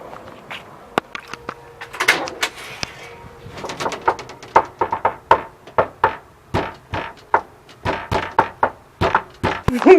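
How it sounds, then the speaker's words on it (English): A special knock on a door: a long series of sharp, close knocks in an uneven, patterned rhythm. They grow steadier and more regular toward the end, with no talking. "You said special knock"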